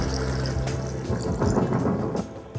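Water poured into a simmering Nellore-style fish curry in a pan, a steady splashing, bubbling pour that runs continuously at close range, with no talking.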